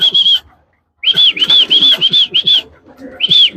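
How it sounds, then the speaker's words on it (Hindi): Repeated high whistling calls in short bursts, with a pause after the first, over faint low fluttering and shuffling sounds of racing homer pigeons nearby. "और कबूतर उधर से ऊपर आएंगे, बाहर आएंगे।"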